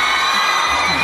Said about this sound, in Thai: เสียงปรบมือหน่อยครับผม